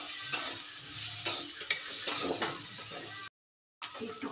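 Spice masala with Kashmiri chilli frying in a pan, a steady close sizzle with stirring scrapes, a brief dropout, then sizzling again, no talking.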